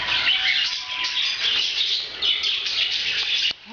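A little yellow bird chirps in quick, bright, high twittering runs, close and fairly clear over a soft outdoor hiss.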